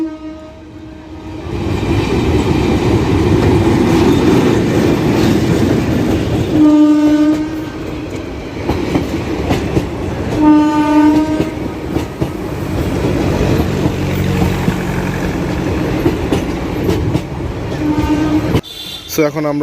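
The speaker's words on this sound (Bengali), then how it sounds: "ওইখানে ট্রেনটা কেবল হর্ন দিল" A train runs past on the second line by a busy riverside Eid cattle market in Old Dhaka, rumbling loudly and close while sounding two distinct horn blasts. People talk over the noise.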